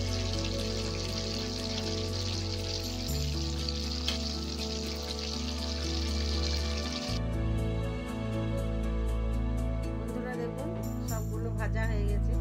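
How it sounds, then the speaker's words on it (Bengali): Food frying in hot oil gives a loud, steady sizzle that runs unbroken from start to finish, with a low background hum beneath it. "এগুলো ভেজে নিচ্ছি।"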